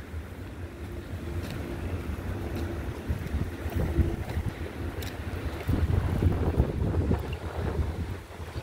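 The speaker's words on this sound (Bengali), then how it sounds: "এই জায়গাটাতে প্রচন্ড বাতাস হয়, প্রচন্ড বাতাস" Strong, gusting wind buffets the microphone outdoors on a street walk home from school, a loud continuous rumble that swells and surges throughout.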